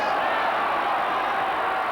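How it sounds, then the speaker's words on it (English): Football stadium crowd at a 1981 World Youth Championship match between Australia and Cameroon, a steady broad roar of many voices urging the Australian side forward, continuous and dense throughout without pause. "the crowd urging the Australians to come forward"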